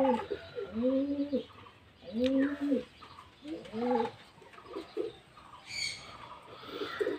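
Several pigeons coo in repeated throaty bursts at a pigeon seller's loft, including a hen, with a few pauses between calls and faint higher chirps near the end.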